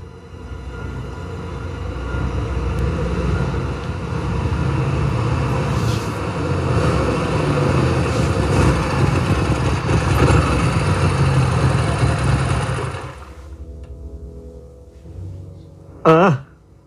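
Fingo's motorcycle arrives with a loud, sustained engine roar that rumbles close for several seconds, then cuts off abruptly, leaving quiet and a brief voice at the end.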